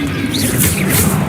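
Spell impacts in the Hogwarts Legacy game, fired in rapid combat: dense, continuous crashing and thudding blasts layered over rumbling low-end effects, loud and close with no pauses.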